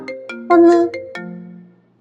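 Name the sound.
phone ringtone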